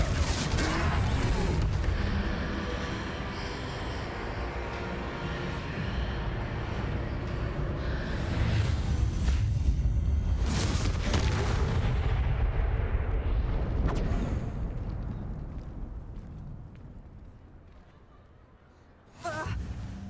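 A Confringo blasting spell explodes in the video game Hogwarts Legacy during a troll fight, a loud sustained roar of blasts and rumbling impacts that slowly fades away, with a voice shouting over it.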